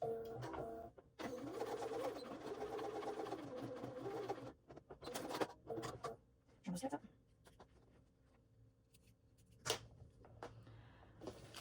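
A sewing machine top-stitches a Louie waist pack in a long steady run, then in short stop-start bursts, while a person talks between stitches.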